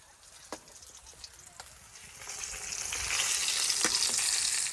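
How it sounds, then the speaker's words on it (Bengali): Fresh river fish frying in a pan, a hiss that starts faint and grows louder and fuller toward the end, broken by a few sharp pops and clicks. "আমার মাছ ভাজি হয়ে গেছে"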